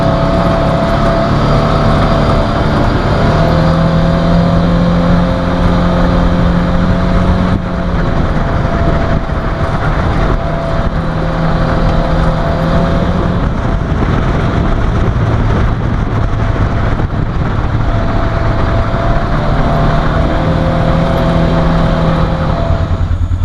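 An ATV engine revving during break-in of a new Gates drive belt, a loud, steady motor drone with shifting pitch tones that rise and fall in long cycles throughout.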